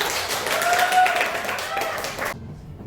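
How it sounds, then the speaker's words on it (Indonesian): Classroom clapping for a student group after a presentation in a mathematics teaching simulation, a short burst of many hands filling the room with overlapping voices, ending abruptly. "Bisa beri tepuk tangan untuk kelompok 1."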